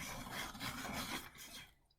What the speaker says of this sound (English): there's the big sharpening here